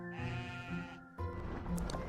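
Sheep bleating in the video game American McGee's Grimm, two drawn-out bleats in a row, loud and close against a faint game backdrop.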